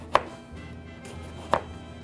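A knife cuts through eggplant on a cutting board for a spicy baked ratatouille, two crisp separate chops about a second and a half apart, fairly quiet with a faint hum between them and no talking.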